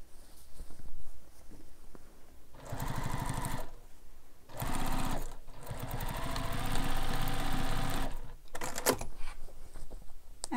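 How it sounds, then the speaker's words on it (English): A sewing machine stitches around a fabric carryall bag over stabilizer in several bursts of whirring, rapid needle strikes, separated by short pauses with handling rustles, the runs close and fairly loud. "And just continue sewing around."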